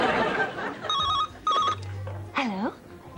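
A telephone on a comedy sketch show rings twice in short electronic bursts, loud and close, as people talk before and after the rings.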